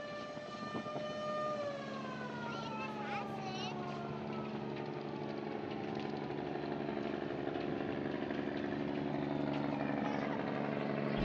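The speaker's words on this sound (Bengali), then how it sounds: "এটা হচ্ছে ইঞ্জিনের সাইলেন্সার।" Loud, steady engine exhaust drones from the silencer on the roof of the Doyel Pakhi 8 passenger launch, a continuous harmonic roar with shifting whistle-like tones and no talk.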